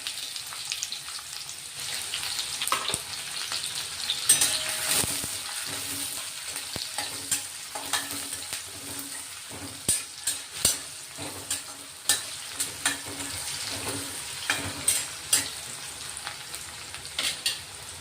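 Finely chopped onion frying with mustard seeds and cumin in hot oil, a steady close sizzle broken by repeated scraping stirs of a spoon against the pan.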